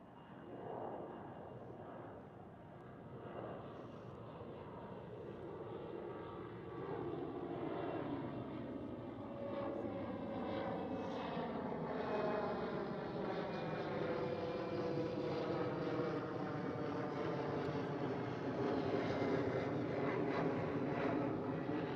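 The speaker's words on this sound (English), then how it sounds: "Oh, very early rotation. KLM. And it's a KLM Cityhopper" A KLM Cityhopper Embraer E190 jet takes off with an early rotation, its engine roar swelling steadily from a moderate distance and holding a rising, sweeping tone, with no voices present.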